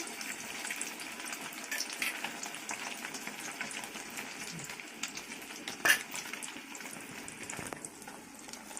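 A chicken burger patty dipped in egg sizzling in hot oil, a faint, steady crackle and hiss with small pops throughout.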